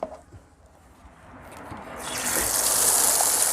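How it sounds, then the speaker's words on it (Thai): Peeled raw mangoes being washed in water, a faint splash at first, then steady running water from a tap that swells into a loud, continuous gush over the second half, with no talking. "นำมะม่วงที่ปอกแล้วมาล้างน้ำครับ"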